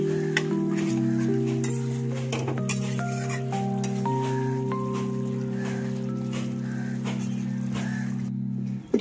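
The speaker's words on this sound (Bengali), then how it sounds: "মাংসগুলো একটু নেড়ে দিচ্ছি।" Chicken curry meat being stirred in a pan, with a spoon scraping and clinking against the metal over a continuous low sizzle, close and steady throughout with no talking.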